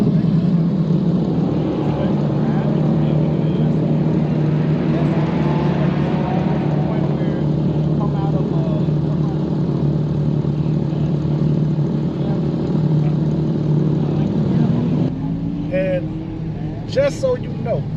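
A Corvette C8 with aftermarket wheels circles Motorsport Park in Atlanta, its engine a steady, loud roar throughout, with a shift in pitch near the end as it changes gear or passes.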